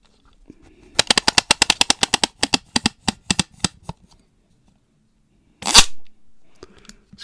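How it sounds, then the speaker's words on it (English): A ratchet tool with a lock button clicks harshly: a rapid burst of sharp, close clicks that gradually thin out, followed after a pause by one louder crunchy snap. "but that ratchety noise, but when you press the button it gets a bit of a harsh sound"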